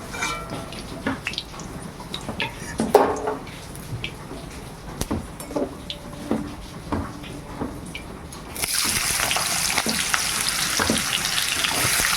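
Food frying in a pan, with soft clinks and stirring at first, then a loud, steady sizzle that swells and fills the last few seconds.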